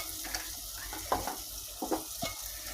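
Coriander and turmeric powder fry in oil in a pan, a soft steady sizzle broken by a few brief scraping stirs, close and fairly quiet with no talking.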